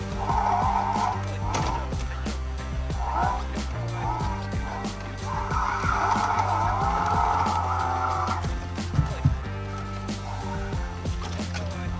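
Tires skid and squeal in a Holden driving simulator game, with a steady engine drone and long squealing bursts, loud and close, while people cheer and talk over it.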